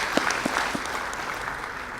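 Audience applause at the G25 Public Forum 2018, a brief burst of many hands clapping in a hall, steady and moderately loud with a few sharper claps near the start.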